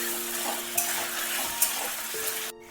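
Ginger and garlic paste sizzle steadily in a pan as a spatula stirs, with a couple of sharp scrapes against the metal, close and continuous before cutting off abruptly.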